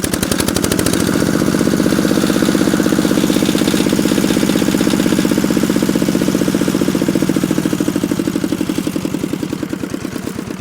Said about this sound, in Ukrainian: Це мотор е, ремонт завершений. Бачите, працює тихіше, як Мерседес.